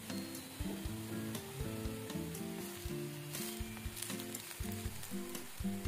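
Cucumber thalipeeth, a flat savoury pancake, sizzles steadily on a hot pan with a continuous frying hiss, some low tonal hum and occasional soft crackles, close and alone.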